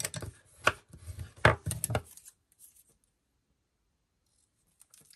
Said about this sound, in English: And we're gonna fold and burnish.